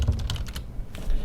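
Rapid keystrokes on a computer keyboard while an SQL query is typed. The close, crisp clicks come in a quick irregular run, pause briefly, then resume.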